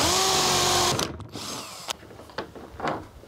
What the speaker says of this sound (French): perçage 20 mm.